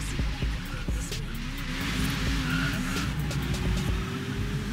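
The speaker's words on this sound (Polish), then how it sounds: "Samochód nie brzmi jakoś fantastycznie." A car engine drones in Forza Horizon 3 with a rising revving tone, while tires squeal and skid across the surface. The sound is steady and fairly loud with no one talking.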